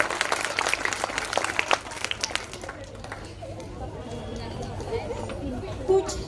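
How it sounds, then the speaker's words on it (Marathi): A crowd at a parents' event bursts into loud, dense clapping for a mother. The applause fades after a few seconds into murmuring chatter and background voices. "जोरदार टाळ्या होऊ द्या मम्मीसाठी आता."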